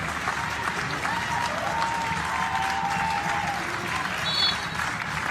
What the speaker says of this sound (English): The applause is for Abel Wality as he has made the long walk around the perimeter of the pitch.